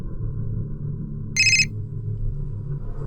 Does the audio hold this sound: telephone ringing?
yes